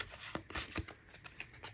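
Four playing cards, the queens, are shuffled by hand, giving a few soft, quick riffling flicks and papery slaps, faint and close with no talk over them.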